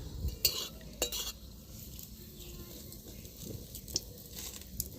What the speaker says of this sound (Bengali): গরম মশলা, দারুচিনি, লবঙ্গ, দুটো এলাচ দিয়ে দিচ্ছি, শুকনো লঙ্কা একটা